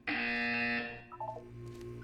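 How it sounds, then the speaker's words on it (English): A loud, steady electronic buzzer from the video game Portal 2 drones with rich harmonics for about three-quarters of a second, then cuts off, leaving a few faint tones and low background hum. "You will hear a buzzer."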